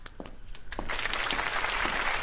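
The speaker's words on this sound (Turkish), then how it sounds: "Alkışlarla buyurun efendim." Studio audience on a Turkish talk show bursting into broad, steady applause to welcome a guest, swelling in after a few scattered claps and continuing loud and full.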